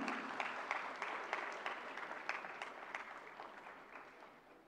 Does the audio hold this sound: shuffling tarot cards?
no